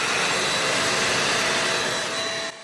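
A Dibea handheld bed and mattress vacuum cleaner with 15 kPa suction runs with a steady, close, broadband whirring roar that cuts off abruptly at the end.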